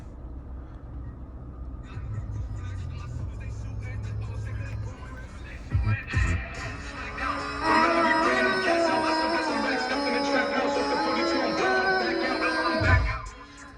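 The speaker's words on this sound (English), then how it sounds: "radio works good, stereo works good, no static" Engine hum inside a 2012 Toyota RAV4 Limited gives way to music from the stereo, playing steadily at moderate volume after a brief clunk.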